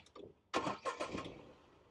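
A car engine on CNG cranks and fires up, a loud burst of starting noise that settles into a quieter idle, with faint clicks just before.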